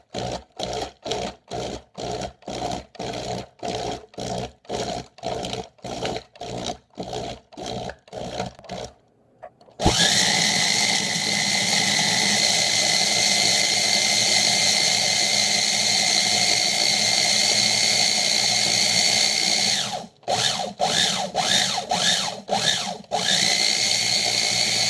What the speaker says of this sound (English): we're just going to grind this down until it makes a nice fine powder